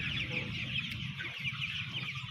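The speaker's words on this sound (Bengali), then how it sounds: "ওই যে বড় মুরগি দেখছিলে এই দেখুন" Chickens, including a large hen, cluck softly and continuously at close range, with steady farmyard background noise and no talking.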